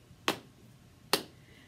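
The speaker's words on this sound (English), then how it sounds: "Tap and clap." Two sharp, isolated hand claps or snaps spaced about a second apart, close and fairly quiet, opening a children's circle-time sing-along, with near silence between them.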